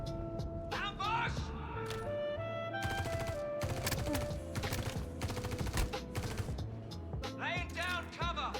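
Rapid gunfire bursts from Star Citizen play near and loud, volleys of automatic shots broken by short pauses, with tonal game effects and a voice speaking over parts of it.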